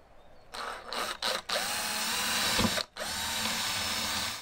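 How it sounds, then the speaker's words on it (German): Electric drill boring a hole through a wooden camper table top: a loud, steady whine that starts up, stutters briefly, then runs for about three seconds, pauses and continues, with no talking. "wenn ich jetzt hier ein Loch reinbohre"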